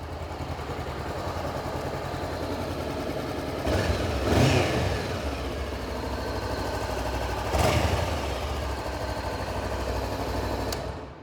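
A 2014 Honda CBR500R motorcycle engine idles steadily on a cold start, a constant close rumble with two brief louder swells along the way.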